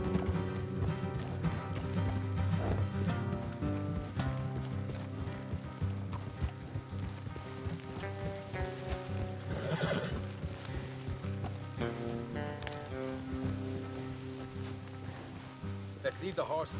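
Horses in a video game clip-clopping at a steady trot with occasional whinnies, under a continuous bed of music and faint voices.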